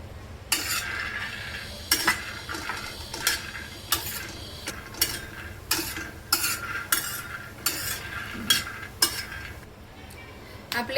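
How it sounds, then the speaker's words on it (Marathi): Peanuts dry-roasting on a tava, stirred with a spatula: repeated scraping and rattling strokes, close and fairly loud, in an irregular rhythm across the whole stretch with no talk. "आपण शेंगदाणे भाजून घेणार आहोत."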